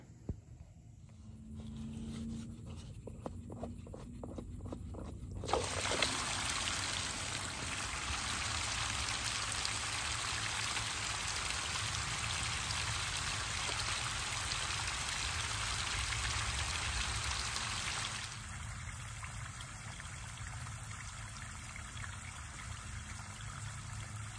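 Water from an overflowing windmill-fed stock tank spills over the rim into a field, a steady close rushing splash that starts after a few seconds, holds loud and even, then eases to a softer trickle near the end.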